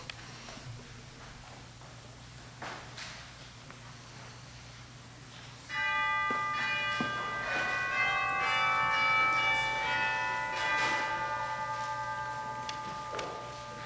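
Church chimes ring out at the start of a Sunday service, several clear bell tones entering after a quiet room with a steady low hum and scattered small knocks, then sounding together and lingering.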